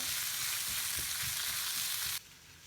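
Chopped onions sauté in a pan for a fish and vegetable tagine, giving a close, steady sizzle and frying hiss with a few light stirring knocks. The sizzle drops suddenly to a softer level near the end.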